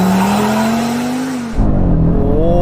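An Audi RS3 pulls away hard under launch control. The engine note climbs loudly and steadily, then a quick gear change cuts in and a deeper, rougher roar carries on up close.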